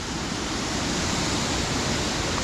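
Harmby waterfall tumbles in a horse's-tail spray over rocks at its foot, giving a steady, loud, close roar of rushing water that holds even throughout with no talk.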